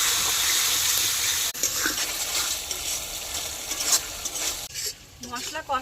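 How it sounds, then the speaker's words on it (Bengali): Ground spices with cumin paste, salt and turmeric are stirred and fried in hot oil, a dense, continuous sizzle with scraping strokes of a spoon, loud and close, with no talk. "নাড়িয়ে চাড়িয়ে তেলের সাথে মশলা ভালোভাবে কষিয়ে নেব"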